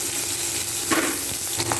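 Fish pieces frying in hot oil in a pan, a constant close crackling sizzle with a couple of brief stirring scrapes, no voices.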